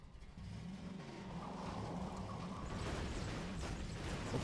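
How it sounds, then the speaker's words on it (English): Vehicle engine in Half-Life 2 revving loudly and steadily for the whole stretch, a continuous droning roar that swells slightly toward the end, with no talk over it. "the vehicle engine was a bit loud"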